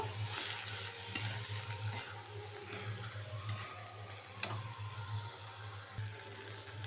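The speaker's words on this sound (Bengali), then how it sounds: "এবার ভালো করে আমি মিশিয়ে নেব মিশিয়ে কষে নেব" Ground cumin and coriander being stirred and sautéed in a pan for a banana-flower chop filling, a steady close sizzle with occasional spoon scrapes, under a constant low hum.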